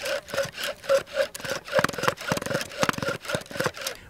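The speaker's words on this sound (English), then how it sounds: "We're gonna start today with our oldest method, which is the bow drill fire." A bow drill spins on wood to make a fire ember, with a rhythmic back-and-forth rasping, each stroke a scratchy squeak, close and steady.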